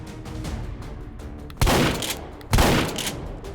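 Engineer's shotgun in a video game firing two heavy, booming blasts about a second apart, each with a sharp crack and lingering tail over quieter background rattle.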